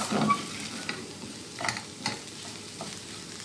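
Potato filling with parsley sizzles softly in a pan as it is sautéed, with a few gentle stirring scrapes over a steady low frying hiss and no speech.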